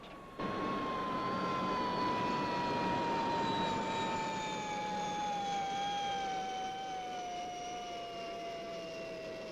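Spacecraft retro rockets firing for a landing in the 1960s puppet TV series Fireball XL5, a steady loud synthetic roar with a high whistling tone that slowly falls in pitch, running continuously without talk.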